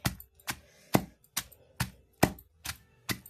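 Sharp, heavy thuds of a stone pestle pounding chutney in a stone mortar repeat at a steady, quick rhythm, about two strikes a second, close and alone.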